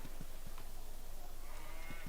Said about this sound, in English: Cow. Definitely a cow.